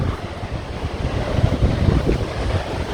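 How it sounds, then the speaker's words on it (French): Ocean waves roll and wash in a steady, roaring surf on the coast at Cartagena, Spain, with gusty wind buffeting the microphone throughout. "Parce qu'on entend fort les vagues."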